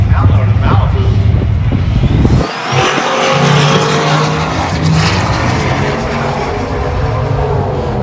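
A 1993 silver Sierra drag races down the strip against a Chevelle at LS Fest 2022, a loud roaring engine close by with a brief dip and then sustained, receding race noise amid a track announcer's voice.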